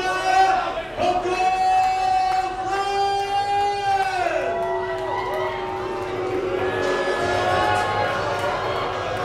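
A crowd at an independent wrestling show in James Bay reacts to a challenger with long, drawn-out vocal jeers and shouts that swell and overlap, fairly loud and continuous.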